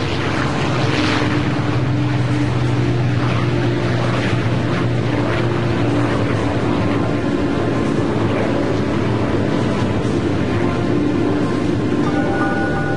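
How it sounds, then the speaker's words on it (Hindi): B-29 Superfortress bomber taking off, a steady droning propeller roar with a low engine hum that holds loud and continuous throughout. "B-29 super fortress box car ने उड़ान भरी।"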